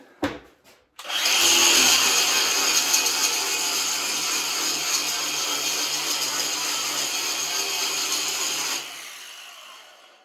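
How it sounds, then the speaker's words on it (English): A power grinder works on metal after drilling, during the build of a home-built diesel submarine; a loud, steady high-pitched whine kicks in after a few brief knocks, runs for about eight seconds, then spins down. "Now, we'll grind this."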